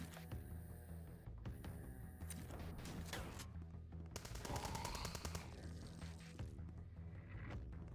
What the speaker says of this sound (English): A little turret shooting section?